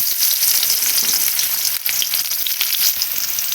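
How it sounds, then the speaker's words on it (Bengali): Sliced onions hit hot oil in a steel wok and fry with a loud, steady, hissing sizzle that holds continuously throughout, with a faint stir-like rustle and no talking. "তেল গরম হয়েছে, পেঁয়াজ দিয়ে দিব।"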